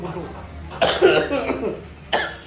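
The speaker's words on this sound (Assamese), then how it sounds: "কাহ হৈ আছে।" A person coughs close by, a rough burst of coughing followed by another short cough a second later, over a quiet background.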